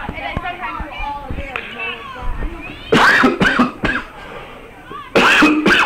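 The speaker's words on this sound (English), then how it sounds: "Yeah, I think they make you cough." Coughing during a girls' school sports broadcast from Chazy, several loud harsh bursts near the microphone, first a pair around the middle then another at the end, following a stretch of talk.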